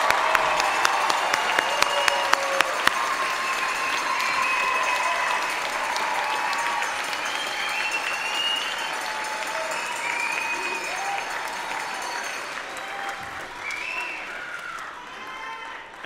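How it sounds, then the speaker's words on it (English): Sustained applause fills a college commencement ceremony as a large crowd claps steadily for the graduates, with scattered whoops and cheers, loud and continuous before tapering slightly near the end. "let's have one more round of applause for all our graduates"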